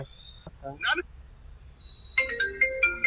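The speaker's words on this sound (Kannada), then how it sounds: "ಯಾಕೆ ಫೋನ್ ಬರ್ತೈತಲ್ಲ?" A phone ringtone plays a bright electronic melody, cutting in twice with a short gap, alongside a brief spoken exchange.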